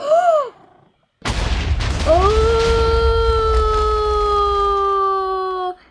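A Minecraft cat and a creeper explosion in a video game: one sudden loud broadband blast with low rumble, followed by sustained ringing tones as the noise decays, after a brief voice at the start.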